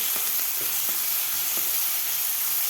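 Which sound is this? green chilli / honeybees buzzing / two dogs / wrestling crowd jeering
green chilli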